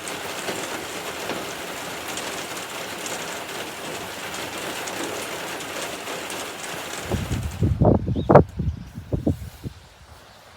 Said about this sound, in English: just enjoy the raindrops before we go on with the video